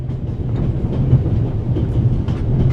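A train rolls steadily along its rails in a video game, a continuous low rumble with faint rhythmic clatter, fairly loud and close, with no voices over it.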